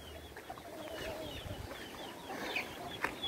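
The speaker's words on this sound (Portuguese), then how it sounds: "Tá aí um pouco das galinhas, né?" Chickens cluck and chirp in an open farmyard, with short calls scattered over a steady outdoor background and one brighter call near the end, moderately close and without talk.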